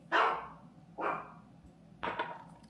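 A dog barks three times indoors, the sharp, moderately loud barks coming about a second apart over a quiet background, with no one talking.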